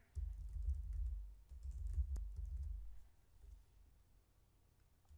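Typing a Power BI formula on a computer keyboard, a muffled, low run of keystrokes for about three seconds that then fades to quiet room tone.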